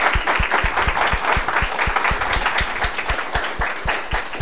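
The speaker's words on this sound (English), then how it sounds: "should all give Father Henry a round of applause for helping us disport ourselves this evenin" Evening lecture audience at a Dominican friars' Lenten literature series applauding a priest, a sustained round of clapping with a steady rhythmic beat of nearby claps standing out over the crowd's patter.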